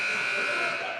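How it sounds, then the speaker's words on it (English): Game buzzer in a high school gym at a boys' basketball holiday tournament: a loud, harsh, steady buzz lasting about a second. "And the buzzer sounds, and we are about to begin action."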